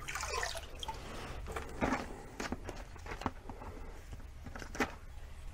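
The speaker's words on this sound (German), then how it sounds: "Dann ins Wasser eintauchen." Water dripping and trickling from a young Phalaenopsis orchid in sphagnum moss after it is dipped in water, with irregular small drips and splashes and some handling noise, no voices.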